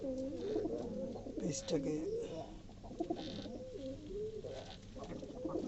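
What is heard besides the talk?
pigeons cooing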